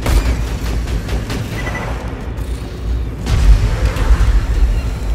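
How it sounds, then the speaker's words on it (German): A grenade explodes in Borderlands 2 as a loud, sustained low rumble of blasts and mechanical combat noise, with a heavier swell toward the end and no talk over it. "Ja, das war daneben. Granaten sind cool."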